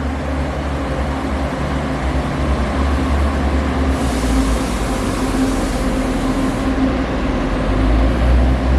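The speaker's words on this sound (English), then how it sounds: "Right now I'm just watching the down valley train towards Jingtong leave" A Pingxi Line train in Taiwan pulls away from the station toward Jingtong. It gives a steady low rumble with rail and motor noise that swells slightly as it goes, with no voices.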